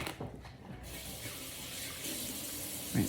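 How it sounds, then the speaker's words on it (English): Water running steadily from a kitchen tap while hands are rinsed under it, a continuous close splashing hiss with slight shifts in the spray, ending in a small clunk. "Rinse those hands off a little more."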